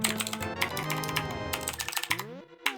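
Computer keyboard keys pressed during play of Zelda: A Link to the Past: quick, irregular taps clicking close by over steady game music and tones, with no talk.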